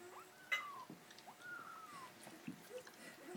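Cat hissing and caterwauling over a piece of dropped chicken indoors, with rising and falling yowls and short hisses at close range, mixed with a person talking and light handling noises.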